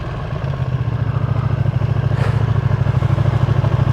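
Ducati Monster 937 naked motorcycle idling close by, a loud, steady, throbbing V-twin rumble with an uneven pulsing beat.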